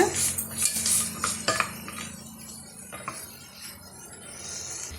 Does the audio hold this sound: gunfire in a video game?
no